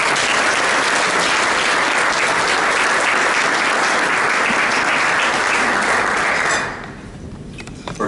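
A meeting audience bursts into dense, loud applause for an outgoing and incoming club board, sustained for several seconds before abruptly tapering off into near quiet.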